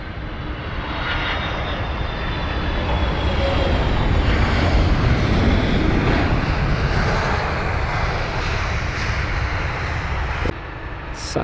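Icelandair jet airliner at Heathrow landing and rolling off the runway, a loud, steady engine roar that swells slightly mid-way and holds, ending with a brief knock, no voices over it.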